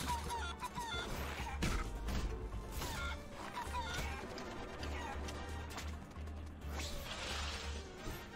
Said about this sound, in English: This had to be a chicken.